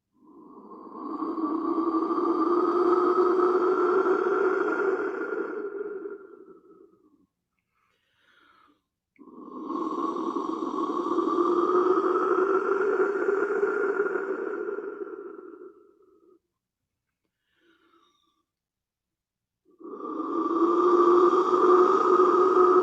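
A handmade clay wind whistle from near Mexico City sounds three long, breathy, hollow howling tones, each several seconds long, with short silences between them. It is played close and heard alone.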